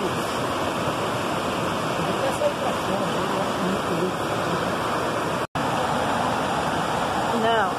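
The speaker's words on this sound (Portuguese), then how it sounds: "Olha o barulho da água" Steady, loud rushing water roars without pause, a dense continuous wash like a fast river or waterfall close by, where two rivers meet beside the BR-477 highway in Brazil.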